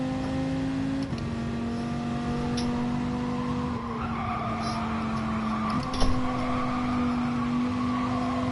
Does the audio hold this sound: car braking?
yes